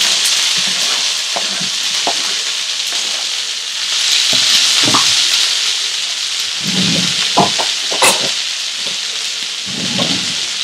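Green peppers and onion for besan mirchi fry together in a pan with a loud, steady hiss and crackle. Scraping stirs and utensil knocks break in now and then.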